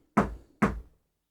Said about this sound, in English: the knocking returned